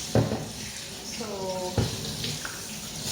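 Cold tap water splashing over a part from a Gaggenau kitchen exhaust fan being rinsed at a sink, a steady close rush with a couple of knocks, and a voice speaking briefly in the middle.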